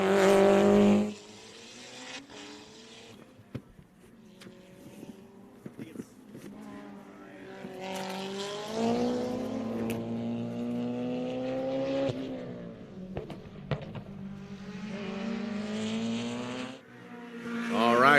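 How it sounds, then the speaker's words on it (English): Unlimited-class drag race cars roar down the strip toward the finish line at a live bracket final, engines rising and falling in pitch with a burst of tire smoke, loud and sustained alongside commentary. "Boyd throwing up some smoke there as they cross the finish line"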